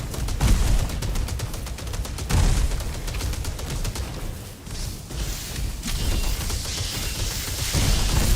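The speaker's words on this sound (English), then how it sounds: "That's a big explosion." Loud, dense gunfire-like blasts and booms in the Titan Quest 2 action RPG, an ignite spin battlemage build, with repeated bursts and a heavier rumbling explosion continuing throughout, no talking.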